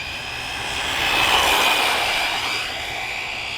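An RLAARLO AK 917 RC car running on a 2S battery speeds past at full throttle, its high motor whine swelling as it nears and fading away again.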